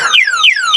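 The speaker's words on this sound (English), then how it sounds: "Now I'm going to activate the alarm." A loud electronic e-bike anti-theft alarm blares in rapid repeating downward sweeps, close and piercing.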